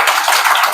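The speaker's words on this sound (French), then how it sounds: "sous vos applaudissements" Applause from a conference audience at a talk on HIV/AIDS, a dense, steady wash of many hands clapping throughout, fairly loud and close with no voices over it.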